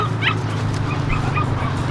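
A mother dog nursing puppies whimpers and yips close by, giving short breathy whines and soft barks over a low steady hum.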